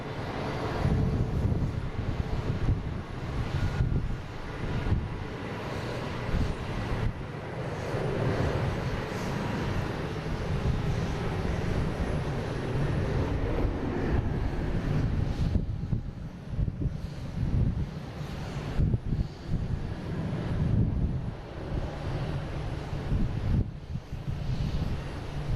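Delta airliner, flight 112 bound for Rome, at Boston Logan International Airport, giving a steady low jet-engine roar mixed with wind buffeting the microphone, holding at a fairly even level throughout with no talk.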